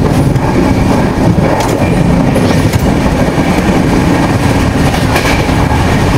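Chennai–Trivandrum AC superfast express train running at top speed, a loud continuous roar with rapid clickety-clack from the wheels, heard close from on board.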